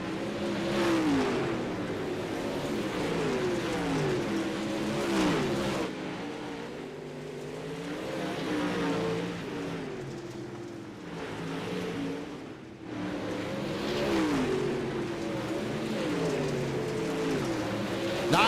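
Dirt late model race cars roar around the I-55 Speedway oval, engines rising and falling in pitch as the pack sweeps past in waves of loud revving, with no speech over the engine noise.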